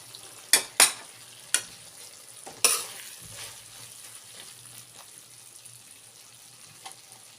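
Cauliflower and potatoes sizzle in a pan over raised heat as the water cooks off. A few sharp knocks of a stirring spoon come early, then a soft, steady close sizzle continues alone.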